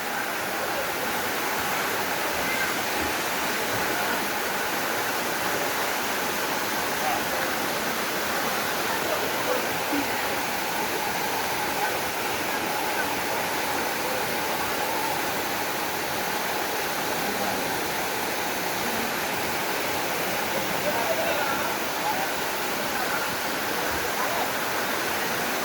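Caunayan Falls, a waterfall with flowing clear water, roaring as a steady, dense rush of white noise that stays constant throughout.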